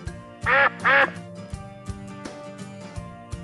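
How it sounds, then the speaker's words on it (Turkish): Two loud, nasal duck quacks in quick succession stand out over a light musical background with steady soft tones. "Yeni arkadaşları Ördek Eva ile tanışıyorlar"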